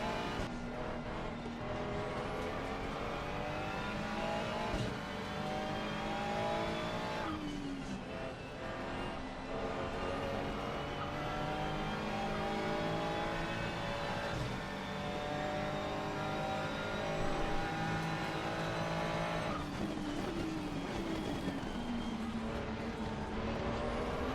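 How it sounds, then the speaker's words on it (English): Race cars lapping Kyalami in the racing game Assetto Corsa Competizione, engines droning and revving steadily without a break, with gear shifts and rivals close alongside. "someone sneaking in our inside. Doggy Hat was one of the fastest guys on the grid."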